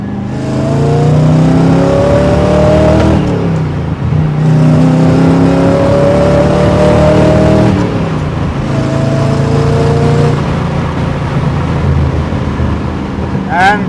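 A 1969 Chevrolet Corvette 350 coupe burbles loudly while driving, its V8 rising through gear changes with a low, throbbing exhaust note that dips between shifts, heard from inside the car.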